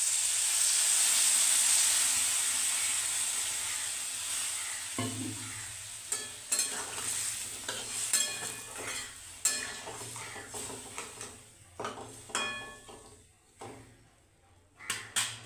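Vegetables frying in a pan give a loud, steady sizzle at first, then hot water is poured in and the hiss breaks into sputtering bursts with scattered clinks of a spoon against the pan.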